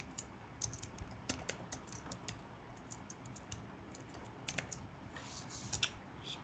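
Typing on a computer keyboard, a steady run of light, fast key clicks with a few louder taps, heard close and alone without any voices.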